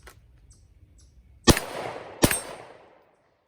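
Two sharp, loud pistol shots from a Smith & Wesson Shield Plus Performance Center fitted with a Swamp Fox Sentinel red dot, fired outdoors about three-quarters of a second apart, each ringing out briefly against quiet background noise.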